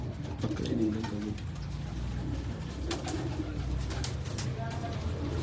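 Pigeons of the Kasuri kind coo and flutter close by in a loft while men handle them, with soft calls repeating over steady low background noise and occasional wing movement.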